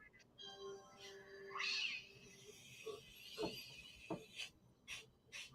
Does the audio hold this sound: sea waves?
no